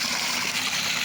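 Water gushes from a burst pipe in a short, dense, steady hiss of spraying liquid, close and alone.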